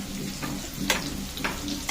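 Flour rolls stuffed with spiced potato filling fry in hot oil, giving a steady close sizzle and crackle with a few louder bursts as they are stirred or turned.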